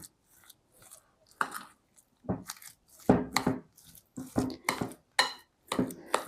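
Wet, thick scraping and clinking of a spoon working through a dense curd cheese filling in a bowl, in uneven repeated strokes, close by.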